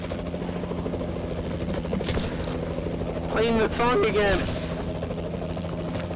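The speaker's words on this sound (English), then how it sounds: "Hello, airplane. Come rescue me." Helicopter-like evac aircraft engine in Call of Duty Zombies, a steady rotor drone running throughout under game music and someone talking.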